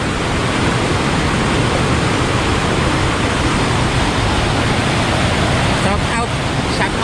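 The strong current of the river at Dorwin Falls, in a forested park in Rawdon, rushes in a loud, dense, unbroken roar up close.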